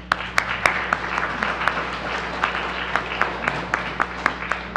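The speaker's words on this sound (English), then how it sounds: "you should clap" A church congregation claps for a pastor's 65th wedding anniversary, with scattered, distinct hand claps standing out over a soft room hum and a low steady drone.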